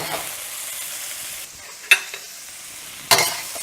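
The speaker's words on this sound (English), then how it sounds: "And as these cook, you just want to flip them around." Shrimp stir frying in a hot pan give a steady, close hiss and sizzle, broken by two sharp clatters as they are flipped around.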